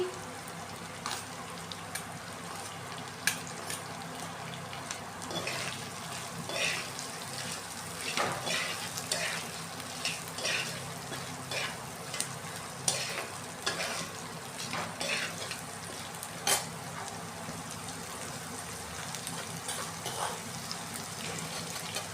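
Chopped green chili and onion frying in a pan, a continuous soft sizzle with intermittent stirring scrapes and taps recurring across the whole stretch, moderately quiet and close.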